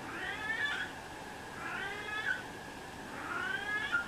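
A cat meows three times at a steady pace, each cry a drawn-out, rising and falling call indoors at moderate distance over a faint background hiss.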